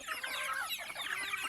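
Chickens cluck and chatter close by in a rural yard, a brief busy run of short overlapping calls.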